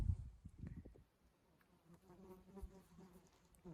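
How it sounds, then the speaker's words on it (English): Flies buzzing close by on a desert hiking trail, a faint, wavering drone that comes and goes with a few louder passes near the microphone. "There's so many flies right here."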